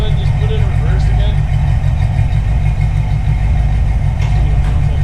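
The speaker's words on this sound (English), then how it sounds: "here it is idling at roughly 750 RPM" A 360-swapped AMC Hornet V8 idles at about 750 RPM, a loud, steady low rumble heard up close with a faint higher whine riding above it.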